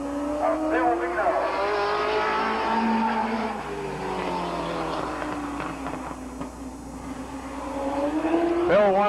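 A late model stock car, number 85, roars around Midvale Speedway during qualifying at a 1988 race night, its engine drone rising and falling steadily as it laps, with a commentator talking throughout.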